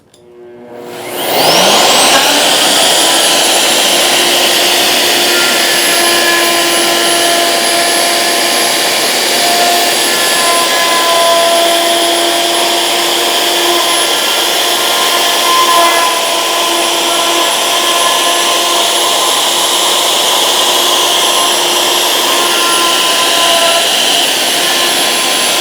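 A small power tool cuts juice grooves in wood with a loud, sustained high whine that spins up quickly and holds steady and close for the whole stretch.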